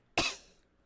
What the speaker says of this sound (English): I've been coughing since the start of session.